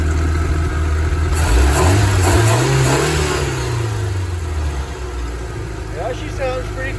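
The engine of a 1985 Dixie Bandit boat revs up from idle, its pitch rising then falling back to a steady mid-range drone, loud and close, with a voice talking over it.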